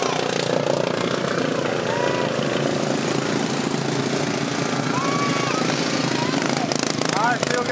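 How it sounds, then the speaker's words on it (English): Racing lawn mower engine having a problem during a race in Thomasville, Georgia, a loud continuous engine whine and drone, with an announcer talking over it. "having a problem with his lawnmower."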